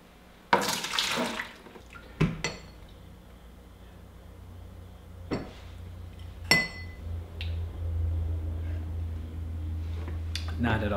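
Blue line cleaner is poured out of a beer keg, splashing and gurgling into a sink amid clinks and knocks of metal and glass, with a low steady hum underneath.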